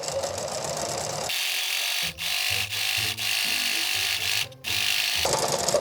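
A sewing machine runs a long, straight gathering stitch across apron fabric at its longest stitch length, giving a steady, close mechanical whirr with a fast needle clatter, broken by a few short pauses and no talking.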